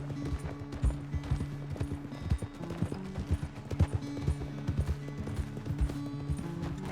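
Horse hooves clip-clop steadily in the Red Dead Redemption 2 game, a fairly close, rhythmic trot of repeated sharp knocks over a low droning game background with no talking.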